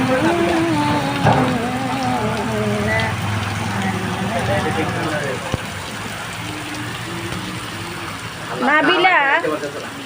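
Rain falls steadily through a downpour heavy enough to cut the power, a constant broad hiss running beneath people talking and singing close by.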